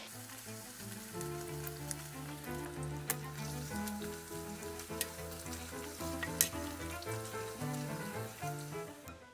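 Thin peanut crackers (peyek) frying in oil in a wok over medium heat, a loud continuous close sizzle with scattered sharp pops and crackles, steady throughout, with music playing underneath.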